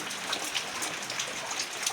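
Heavy rain pours down steadily in a rural spot where livestock stand outside, a dense, even hiss with scattered drop patter and no voices.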